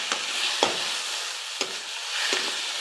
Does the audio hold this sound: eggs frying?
yes